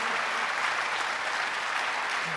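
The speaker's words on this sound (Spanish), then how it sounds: "también es bueno darles un aplauso de bienvenida" A church congregation gives a welcoming round of applause during a sermon, steady dense clapping from many people filling the room at an even level throughout.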